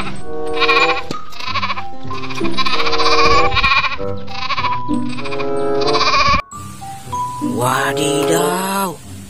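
A goat in the Jurassic World Evolution 2 video game bleats repeatedly in loud, wavering, nasal calls, about five in quick succession, then a short pause and one more drawn-out, quivering bleat, all close and clear without speech.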